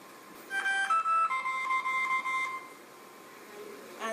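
A continuous glucose monitor sounding its low alert for a child with type 1 diabetes: a run of clear electronic beeps in repeated groups for about two seconds, fairly close, with no talking.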